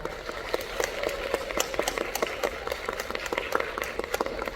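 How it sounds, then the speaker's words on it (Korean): Scattered audience clapping at an award ceremony Q&A session of a music video film festival, moderately close, steady irregular claps for several seconds with no talk. "여러분 박수 부탁드립니다"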